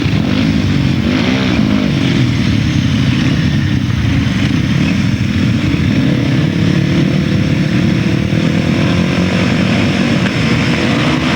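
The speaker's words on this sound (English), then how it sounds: "A terrific sidecar battle indeed." Sidecar motorcycles race on a grasstrack, their engines roaring loudly and continuously as they pass close by, with a rising and falling howl of revs throughout and no commentary over them.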